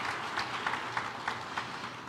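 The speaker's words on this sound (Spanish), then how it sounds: "vamos a darles un aplauso a todos estos hermanos que están viviendo en el reino de Dios" A church congregation gives a short round of applause during a pastor's sermon, a soft, fairly distant patter of many hands clapping that stays even and subdued throughout.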